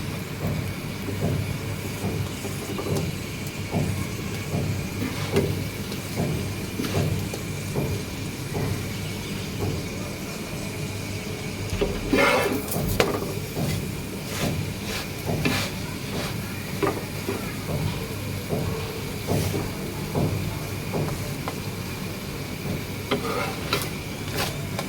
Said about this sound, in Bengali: এভাবে করে সবগুলো পরোটা ভেজে নেব।